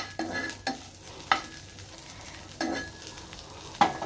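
Potatoes and okra frying in a pan with a soft background sizzle, broken by four sharp scraping stirs of a spatula spaced about a second apart, close and fairly quiet.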